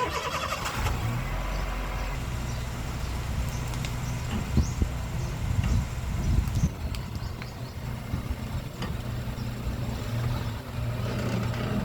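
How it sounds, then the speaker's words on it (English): A car rolls over a basic mobile phone placed on the ground outdoors, its engine rumbling steadily up close with a few brief crunching thumps and bumps as the tyres pass over. "We're going to make the phone run over by a car."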